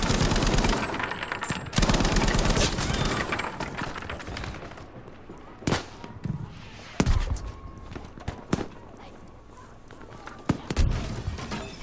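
Bursts of light machine gun fire in Battlefield V, rapid rattling volleys up close at first, then scattered sharp single shots and short bursts echoing through a building, with faint talk underneath.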